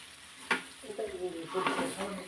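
Pickle mixture is stirred in a pan with a few short scraping strokes and a soft sizzle, quiet and close, with brief indistinct vocal sounds in between.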